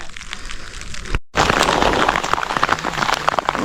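Steady rain falls during a hill trek to Kambathrayangiri Perumal near Sathyamangalam, a dense continuous patter that breaks off for a brief moment of silence before resuming at full strength.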